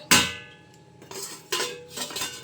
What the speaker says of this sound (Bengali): আমি একটু ঢাকনাটা খুলে নিলাম